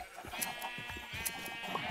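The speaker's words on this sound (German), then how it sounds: "Und jetzt geht's mal hier an die Schafe schnippeln." Wool being sheared from sheep in the Minecraft video game, heard as a short run of repeated snipping clicks layered with several sheep bleats and game ambience, moderately close and without talk.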